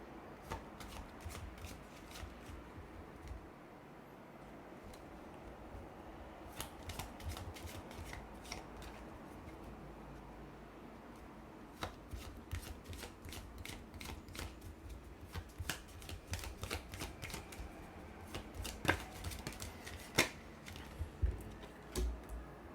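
Tarot cards are shuffled continuously at close range, a steady soft riffle with scattered sharper clicks and slaps that grow a little busier toward the end, with no talking.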